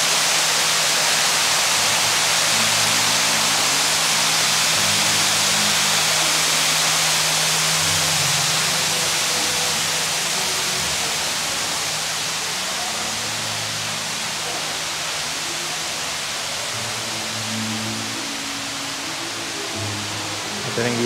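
Indoor waterfall at the Floral Fantasy garden at Gardens by the Bay, Singapore: a steady, broad rush of falling water fills the whole stretch at an even, fairly loud level, with faint low murmurs of visitors underneath.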